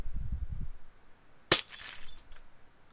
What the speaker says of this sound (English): I broke glass.